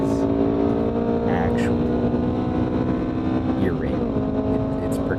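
Loud, rumbling car exhaust fitted with a Berg test pipe and a Clive single exit exhaust, droning continuously up close with a couple of brief rising revs while someone talks over it.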